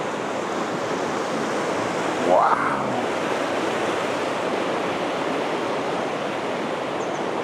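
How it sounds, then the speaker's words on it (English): River rapids flowing over green mossy rocks in Slovenia, a loud constant rushing roar close by, with a person briefly exclaiming partway through. "there's some rapids right here with the green mossy rocks"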